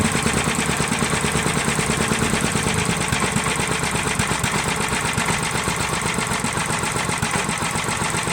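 A Little Wonder ground leaf blower with a Briggs & Stratton 8HP 319cc engine and Flojet carburetor idles low and steady, a fast, even, close chugging pulse that runs the whole time without talk.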